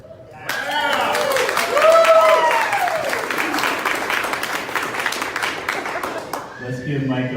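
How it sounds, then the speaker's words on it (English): Campaign kickoff crowd clapping and cheering for the candidate's wife, a full burst of applause with whoops and shouted voices swelling early, then holding steady before a voice begins speaking near the end. "Let's give Micah one more round of applause."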